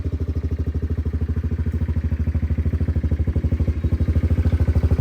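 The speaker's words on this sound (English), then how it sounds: "As you can hear, this thing idles great." A 1998-2001 Yamaha Grizzly 600 4x4 ATV with a carburetor idles steadily up close, a smooth, even low thumping rhythm with no stumbles, heard alone without talk.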